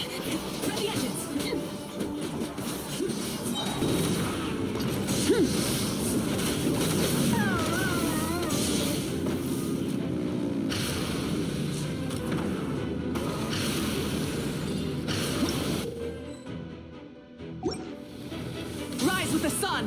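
Ship engines rumble and churn steadily in the video game Genshin Impact, joined by sloshing water and mechanical clatter. Voices and music play over the sound throughout and it briefly thins near the end.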